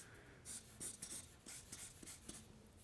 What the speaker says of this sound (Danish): jeg vil prøve at starte med at tegne en plante for jer her med nogle rødder